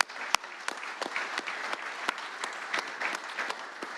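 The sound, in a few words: fans' round of applause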